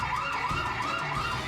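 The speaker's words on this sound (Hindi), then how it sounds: "बार बार अलार्म बजना।" A siren-like alarm wails continuously, rising and falling in pitch over a steady loud drone, heard alone with no talking, set in the ruins of Kiradu.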